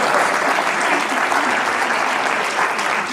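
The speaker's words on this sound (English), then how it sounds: "Oh, no, go on, clap." A cinema audience at a comedy Q&A breaks into loud, sustained applause, a thick wall of clapping that stays steady across the whole stretch with no voices over it.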